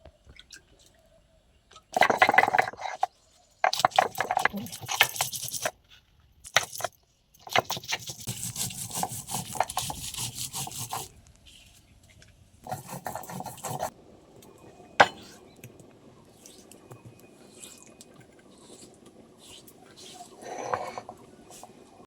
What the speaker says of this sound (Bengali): জিরে দিলাম, আদা দিলাম, শুকনো ঝাল, রসুন। এবার এগুলো আমি বেটে নেব।